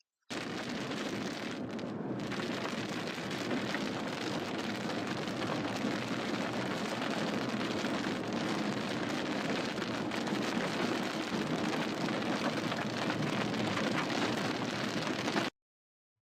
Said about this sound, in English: Looks like he's in this rain and hail core right now.